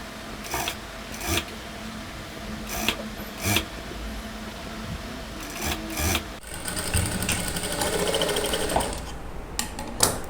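Sewing machine stitching a blouse sleeve, a steady close mechanical whir with short pauses and bumps, then a faster, denser run of stitching near the end.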